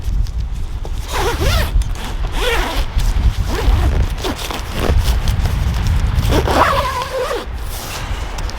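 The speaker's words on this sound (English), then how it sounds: "What I've just done now, I've opened the second zip, so it's got 2 different zips" A Naturehike Cloud Peak 2 tent's zippers are drawn open in several quick rasping pulls, close and crisp, with fabric rustling between them.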